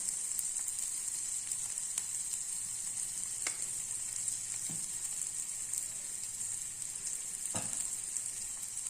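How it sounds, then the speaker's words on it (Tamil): Onions sautéing in a pan with asafoetida for a wheat rava adai batter, a steady close sizzle with occasional soft stirring scrapes, no voices. "வெங்காயம் நல்லா வதங்கிட்டு இருக்கு பாருங்கள்"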